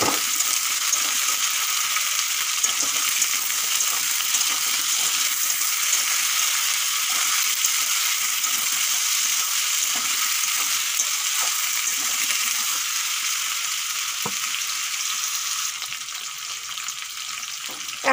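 Plantain and potato pieces frying in hot oil in a pan for a mixed vegetable dish, a steady loud sizzle that holds for the whole stretch with occasional clinks, easing slightly near the end.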